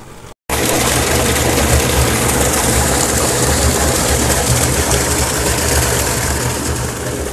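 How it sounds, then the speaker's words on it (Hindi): A farm water pump motor switches on with a brief click and then drones steadily, loud, close and continuous. "मोटर चालू करो"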